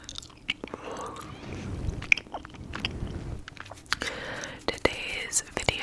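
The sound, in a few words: chewing gum, whispered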